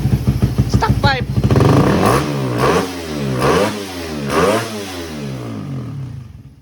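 A motorcycle with a stock exhaust pipe and a freshly built engine with a long-rod setup revs hard and close, its pitch climbing and falling in several throttle blips before it settles back.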